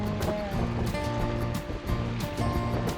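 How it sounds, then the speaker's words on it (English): Wind gusts over choppy water on Smooth Rock Lake, heard from a lakeside island campsite: a steady, loud wash of chop and blustery wind filling the whole stretch, with a faint low motor-like hum underneath. "You can see it's a bit blustery, plenty of chop on the water."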